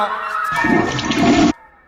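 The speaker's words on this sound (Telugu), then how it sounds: "ఫ్లష్ కొట్టడం మర్చిపోయావు రాజా" A toilet flushes nearby, a loud rushing gush of water lasting about a second that cuts off abruptly into quiet.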